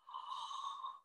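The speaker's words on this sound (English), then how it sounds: "So let's do another yawn again." A breathy, drawn-out yawn made as a vocal exercise to open the soft palate, lasting about a second, soft and steady with an airy, hollow tone, fading at the end with no words.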